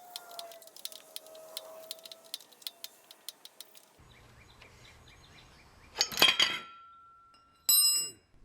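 A removed pulley assembly from a John Deere 110 lawn tractor drops and clatters with bright metallic clinks, then a couple of short ringing impacts, after a stretch of small ticking handling noises.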